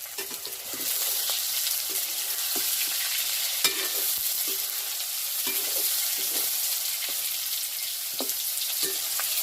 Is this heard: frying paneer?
yes